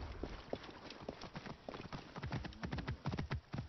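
Hooves of a horse in Assassin's Creed Origins clip-clop in a quick, steady trotting rhythm, close and distinct, with a few low game sounds in the background.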